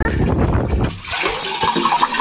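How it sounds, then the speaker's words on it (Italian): Water gushing and splashing from a public drinking fountain outdoors, a loud continuous rushing stream close by, with no talking. "guardate che bella fontana"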